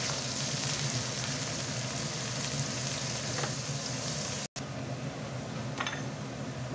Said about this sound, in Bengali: পেঁয়াজ রসুনটা লাল লাল করে ভেজে নেব।